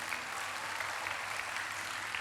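Congregation applause at a church service at JCC Cijantung, a steady, dense wash of clapping from many hands that holds evenly throughout at moderate loudness, with no voices standing out.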